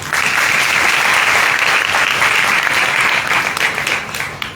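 A gathering at a church meeting breaks into loud, sustained applause for the preaching pastors, dense clapping that holds strong and then tapers slightly toward the end.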